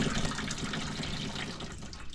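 Tap water running steadily into a washing machine tub, a continuous close hissing splash filling the short stretch with no talk.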